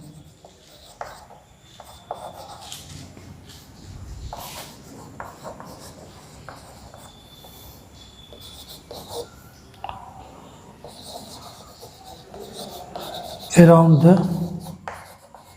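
Chalk or marker scratching across a classroom board in short strokes beneath a teacher's ongoing talk, with a louder burst of writing noise near the end.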